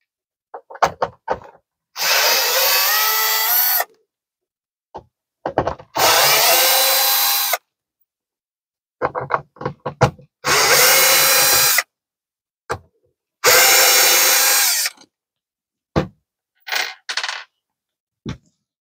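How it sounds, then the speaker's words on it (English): A power drill with a square bit backs screws out of a camper's power converter in four loud, sustained whirring bursts, separated by short clicks and handling taps, with no talking. "Now we are going to remove the four screws that hold the converter in place."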